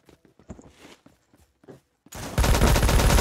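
A shotgun firing in the Phantom Forces video game: after a stretch of quiet clicks and faint game noise, a loud, dense burst of blasts and rattling fire kicks in and continues to the end.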